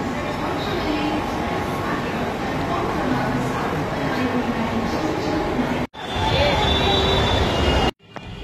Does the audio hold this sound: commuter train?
yes